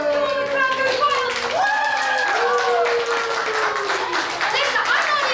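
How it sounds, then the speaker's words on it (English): An audience at a puppet show in the Crockett Library claps and cheers, a lively burst of applause mixed with high excited children's voices and whoops running across the whole stretch. "the crowd goes wild"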